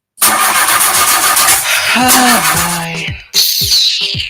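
A broken-down car's engine cranks and starts, then idles and revs roughly before cutting out and cranking again, loud and close.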